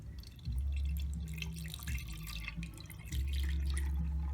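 Water mixed with dissolved toothpaste is poured from a container, giving a steady trickling, splashing stream that swells twice, close and fairly loud.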